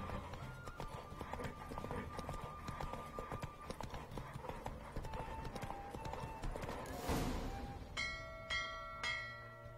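A horse gallops in a race in The Witcher 3, its hooves clip-clopping in a fast, steady rhythm alongside game sounds, with a cluster of bell-like chimes near the end.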